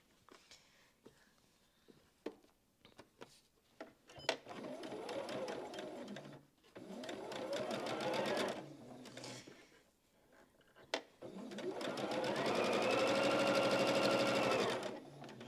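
A sewing machine stitches baby quilt pieces in three long runs, loud and close, separated by brief pauses with small clicks and handling noises.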